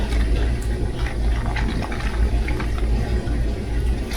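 Water rushing and splashing as a container is rinsed out in a home kitchen, a loud continuous gurgling pour over low rumble with no voices.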